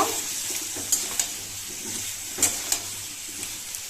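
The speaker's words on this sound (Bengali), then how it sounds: "আদা, টমেটো আর কাঁচা লঙ্কাটা ভালোভাবে আলু পেঁপের সাথে এইভাবে নাড়াচাড়া করে একটু ভেজে নেব।" Potato, papaya, ginger, tomato and green chili sizzle gently in a pan while being stirred, with a faint steady hiss and a few sharp clicks of the spatula against the pan.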